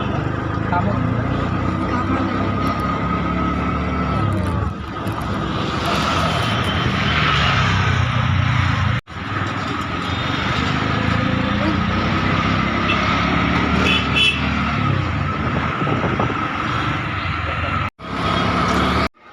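Steady engine drone and road rumble from inside a moving auto rickshaw on a morning trip toward school, with people talking over the continuous noise and a few brief dropouts.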